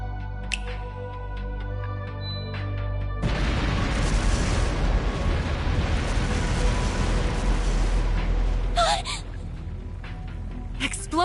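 Fireworks from explosive artifacts go off in the video game Trails through Daybreak, a loud, sustained wash of rumbling blasts and crackle that bursts in suddenly after a quieter stretch and then cuts back down.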